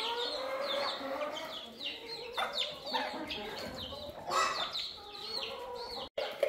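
Chickens and chicks in a coop, with repeated clucks and high, thin peeping calls overlapping in a busy, close chorus that continues throughout, a voice speaking briefly among them.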